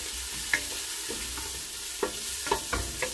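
Chopped onion frying in a pan as the base for a soup, a steady close sizzle broken by several sharp scraping stirs of a utensil against the pan.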